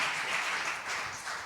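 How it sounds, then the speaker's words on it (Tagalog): Church congregation applauding together in a steady, continuous wash of clapping at moderate volume, with no voice over it. "Isang buhay na palakpak para sa ating pinakamamahal na Panginoon."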